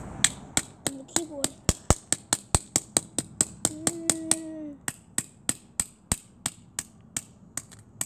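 A hammer smashes a phone with about thirty sharp, close strikes in a fast, steady rhythm, with brief vocal sounds mixed in partway through.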